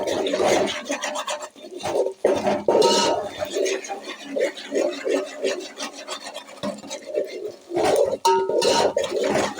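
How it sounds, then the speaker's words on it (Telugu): A utensil scrapes and rasps against the bottom of a thin cooking pot while vegetable biryani is stirred, in repeated close strokes that pause briefly now and then. "కలుపుతూనే ఉండాలి అడుగు అంటకుండా."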